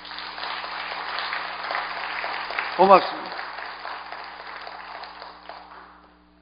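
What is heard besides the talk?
congregation applause for the pastor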